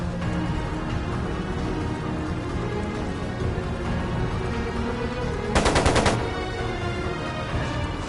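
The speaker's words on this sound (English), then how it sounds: "It sounded like a machine gun." Machine-gun fire in the video game Trails of Cold Steel II: a rapid, loud burst of roughly half a second rattles out over a steady hissing, rain-like background.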